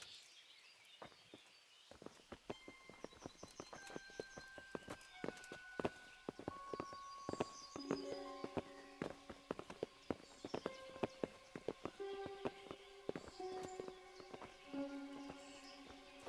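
Horses' hooves clip-clopping on the ground in Kingdom Come: Deliverance, a steady walking rhythm of moderately close clops beneath soft outdoor ambience and sustained musical tones.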